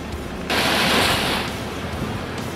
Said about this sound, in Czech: a hned od rána to pěkně fouká